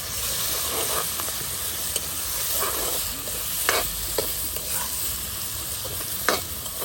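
Curry seasoning fries in a pot over a campsite fire with a steady loud sizzling hiss, punctuated by a few sharp scrapes and taps of stirring, close up and without talking.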